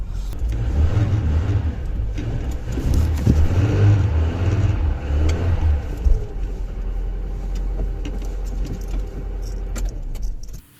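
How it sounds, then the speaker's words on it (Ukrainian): A car engine with a Pierburg 2E carburetor revs and churns loudly, jumping to about 1,500 rpm, rising and falling in bursts, close by with a steady low rumble throughout. "по ідеї він зразу підскакує, півтори тисячі оборотів сходу бере."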